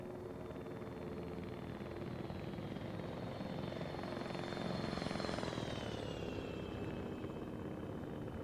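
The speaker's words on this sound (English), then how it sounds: "we've got MI-8s moving in on the radar" Armed MI-8 helicopters approach in the ArmA 3 combat game, a steady rotor drone that swells slightly louder near the middle and then eases, heard alone with no talk.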